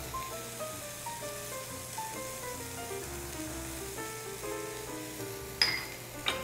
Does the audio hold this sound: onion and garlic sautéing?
yes